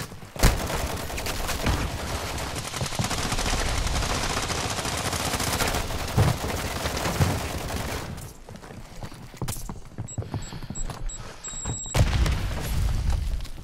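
Dense, sustained gunfire from a Call of Duty: Modern Warfare III firefight, loud and continuous with sharp bursts and booms, briefly thinning near the end before erupting again.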